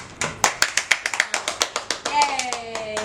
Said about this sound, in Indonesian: Tepuk tangan dulu dong, guys.